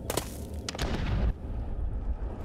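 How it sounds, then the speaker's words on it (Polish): Several sharp gunshots crack in quick succession in the game This War of Mine, followed by booming, rumbling blasts that fade into a low lingering rumble. "Strzały rzeczywiście."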